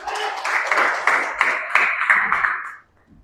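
A church congregation claps together in a dense, steady wash of applause for nearly three seconds, then stops abruptly into quiet.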